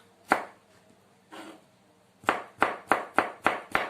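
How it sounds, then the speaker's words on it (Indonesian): Thin lengthwise slicing of shallots with a kitchen knife on a board for mushroom, mustard-green and bean-sprout soup: a couple of isolated cuts, then a steady run of six crisp knocks, close and clear with no talking. "Ini bawang merahnya diiris-iris seperti ini, tipis-tipis ya, memanjang"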